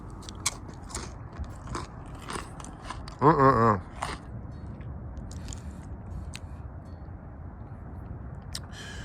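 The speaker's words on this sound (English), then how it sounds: "I'm having some chips and some, these aren't chips, they're actually pretzels, and some dip" Crunchy pretzels with a salsa and sour cream dip being bitten and chewed close up, with crisp crackling crunches scattered through and a brief voiced sound in the middle.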